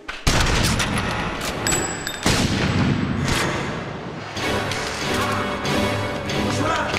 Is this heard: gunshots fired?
yes